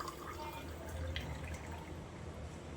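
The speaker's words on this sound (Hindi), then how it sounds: "ठंडा ठंडा पानी डाल लेम जी।" Cold water poured into a glass for a sugar-salt drink, a faint, steady splashing trickle with soft drips, no voices.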